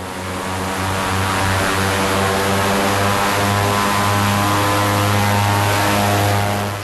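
Interior drone of an old Russian propeller cargo plane in flight, carrying tin ore to Goma in Congo, a loud steady engine hum with a strong low tonal throb and whining harmonics that persists unbroken throughout.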